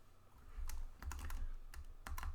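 Arrow keys on a computer keyboard are pressed in a quick, irregular run of light clicks and taps, close up, with no voices.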